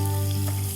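Chopped onions, half a cup, frying in oil in a pan where fish is also cooking, giving a steady, close, continuous sizzle with no voices.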